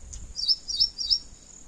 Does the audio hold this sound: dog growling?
no